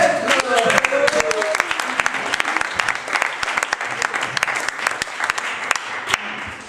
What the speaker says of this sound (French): applaudissez-le, il a fait les kilomètres.